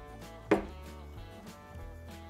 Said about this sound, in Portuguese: Só pra fatiar mesmo.